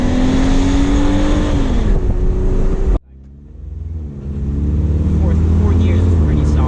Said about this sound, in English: All right, we're going to do a pull from first gear.